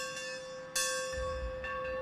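A large outdoor rally bell on a college commons, associated with the May 4, 1970 gathering, rung once with a sharp struck onset and a long sustained ringing tone, fairly close, with no talk.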